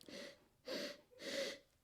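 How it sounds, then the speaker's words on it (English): Three deep, drawn-in sniffs of wine in a glass, close to the mic, each a breathy rush of air with short pauses between. "swill it around, give it a good sniff"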